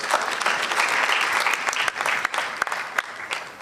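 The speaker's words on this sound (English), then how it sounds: "Please give them a round of applause." A college scholarship sponsor is applauded at a national science and maths quiz event, the audience clapping steadily and loudly for several seconds with a few sharper claps standing out.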